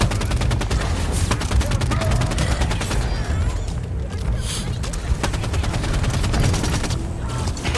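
Rapid automatic gunfire rattles almost nonstop in the Halo 5: Guardians video game, loud and dense bursts layered with explosions and game noise, a voice speaking briefly over the shooting.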